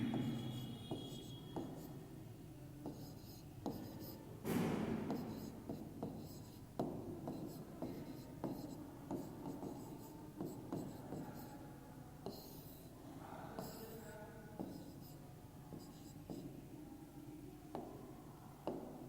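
Numbers being written by hand during a math lesson, a close run of scratchy pen or marker strokes with rapid taps and short scrapes that go on steadily.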